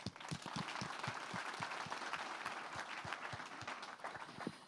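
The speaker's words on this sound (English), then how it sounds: "Maybe we could give them one more round of applause" Applause from a tech summit audience for the speakers, with crisp individual claps standing out over a steady round of clapping at moderate distance.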